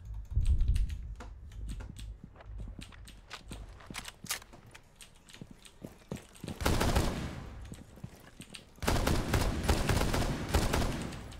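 Rapid, loud clicking on a computer keyboard during a gaming stream comes in dense bursts, mixed with game gunfire, with two heavier noisy stretches near the end.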